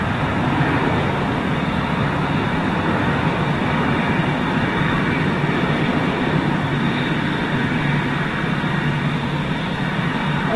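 Wizz Air jet passing near Lisbon airport, a loud continuous engine roar and rumble holding steady throughout, with no voices.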